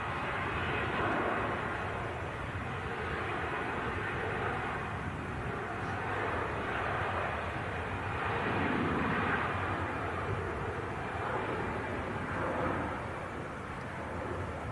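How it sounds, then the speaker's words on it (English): Brussels Airlines Airbus A320 departing on a cold day, a steady broadband jet engine roar holding at a fairly constant level for the whole stretch, with no talk over it. "Brussels Airlines A320 heading off back to Belgium."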